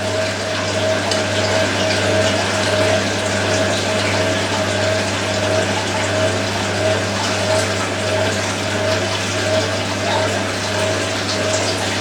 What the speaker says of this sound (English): it's good the Miele does fill with a higher pressure fill